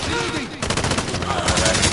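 Gunfire in the video game Call of Duty Modern Warfare: rapid bursts of automatic shots, loud and close, firing almost without pause and thickening into a dense rattle in the second half.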